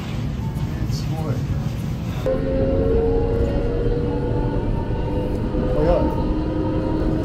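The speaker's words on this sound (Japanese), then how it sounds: "ちょうどいいの来たね。 しかもタルト電車。" A tram in tart livery rolls past on a Matsuyama street with a steady rumbling drone and faint squeals, while people talk over it.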